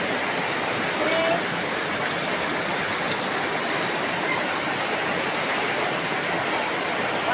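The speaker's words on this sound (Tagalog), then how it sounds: "Ayan na naman yung ulan, oh." Heavy rain pours down during Typhoon Kristine, a dense, steady hiss of rainfall that stays loud and unbroken throughout.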